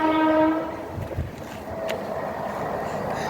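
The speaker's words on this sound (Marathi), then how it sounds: "इथे बघा आमच्या इथे ट्रेनचा सगळा आवाज येतोय." A train passing near a Konkan mango orchard, its horn sounding loudly at the start before fading into a steady rumble of rolling wheels and cars.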